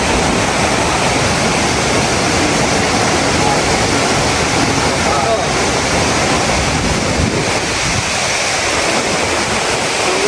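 A mountain waterfall along a trekking trail roars as a loud, continuous broadband rush close by, steady throughout with some wind buffeting the microphone.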